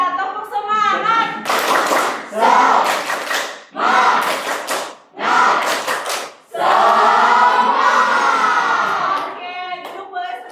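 Elementary schoolchildren in a science class do a spirit cheer, clapping rhythmically and jumping as they chant together loudly in short bursts, with a teacher's voice between rounds.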